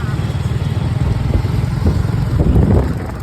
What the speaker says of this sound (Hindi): अभी हम लोग बैठे हैं डैडी की बाइक पे